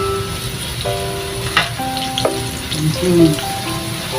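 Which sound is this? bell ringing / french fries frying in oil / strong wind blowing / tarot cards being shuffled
french fries frying in oil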